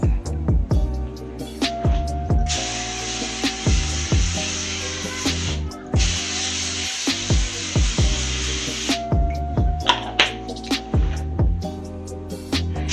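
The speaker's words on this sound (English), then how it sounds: "spray these pans with canola oil so they don't stick to my pans" Canola oil sprays from a can onto foil-lined baking pans in two long hissing bursts at close range, with clattering and knocking of the pans between and around the sprays.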